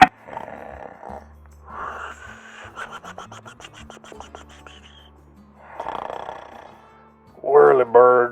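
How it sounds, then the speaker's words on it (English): A person snores in rough, rasping breaths at a diecast toy car racing event, with bursts of talk and a rhythmic rattling between them and a louder snort near the end. "Is that snoring?"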